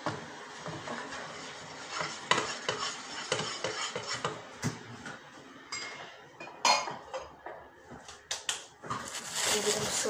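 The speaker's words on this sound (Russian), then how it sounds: "Потом размазываем вот такой вот ложкой." A spoon scrapes and clinks against a dish while food is spread in a home kitchen, a rapid run of close, irregular metallic taps and scrapes with faint background noise.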